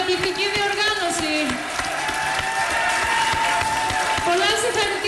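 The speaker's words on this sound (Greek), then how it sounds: "Ένα μεγάλο χειροκρότημα στην ΕΡΤ για την καταπληκτική διοργάνωση." Audience applause at a Greek national song contest final, steady dense clapping with crowd noise throughout, mixed with speech and tonal music-like elements on top.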